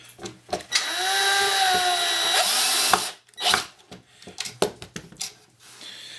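A power drill drives a screw in, a loud close whine rising and falling for about two seconds, then clicks, knocks and handling noises as the work is adjusted.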